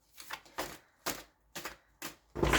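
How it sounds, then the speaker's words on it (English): Tarot deck being shuffled by hand in short bursts, five papery riffles of card stock spaced about half a second apart, close and fairly quiet, no talking. "I need to still shuffle."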